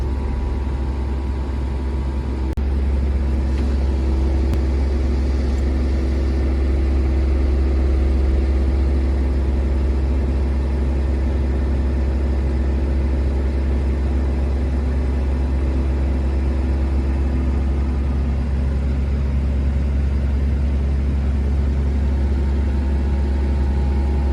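Tractor engine running steadily while packing a corn silage pile, a continuous low rumble with a mid-range drone that stays loud and even throughout, no voices.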